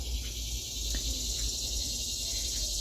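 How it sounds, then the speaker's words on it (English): Cicadas drone on a summer morning in a backyard, a steady high buzzing hiss that fills the background, with a few faint chirps scattered through it. "You can hear the cicadas"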